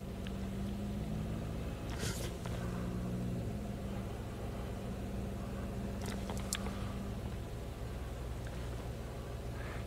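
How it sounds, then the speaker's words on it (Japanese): A rental car cruising along roads in Miyazaki Prefecture, its steady engine drone and road rumble heard from inside the cabin, with a couple of brief knocks or rattles breaking the continuous hum. "安全運転でね、ドライブをやっております"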